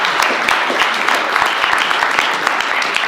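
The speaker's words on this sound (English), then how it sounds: "Let's give him a warm round of applause." An audience applauds warmly, a dense, steady wash of many hands clapping at close range, with no voices over it.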